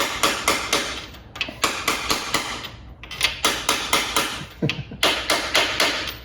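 Repeated sharp dead blow hammer taps in quick bursts of three to five, seating a lubricated part into place on a race car, with brief pauses between groups, close and fairly loud.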